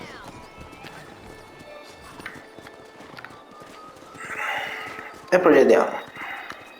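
Horse in the western game Red Dead Redemption, with soft hoofbeats and a loud whinny bursting out near the end, while someone talks over the start.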